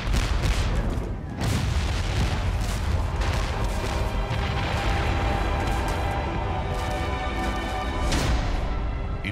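British cannon bombardment of rebel defenses at Kips Bay, New York, in 1776, heard as a dense, continuous battle effect of booming cannon fire and crashing explosions, loud and layered.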